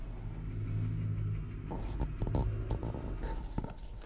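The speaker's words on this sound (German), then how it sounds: "Da fährt das Mähwerk los" A tractor-driven mower unit gets going in a grass field, with a low engine rumble building and then a burst of rough, clattering bangs from nearby, heard fairly faintly.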